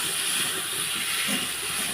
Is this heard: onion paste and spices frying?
yes